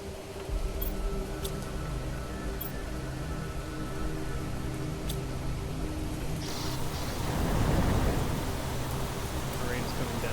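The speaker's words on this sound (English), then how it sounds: "Rain's coming down heavier." Heavy rain falls in the Planet Crafter video game as a steady, dense hiss that swells louder and fuller during the last few seconds.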